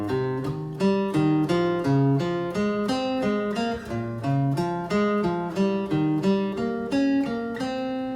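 Clean guitar picks a steady pattern of single notes outlining the chords of a song, with root, third, fifth and flat seventh moving in an even, repeating rhythm, played alone and fairly close.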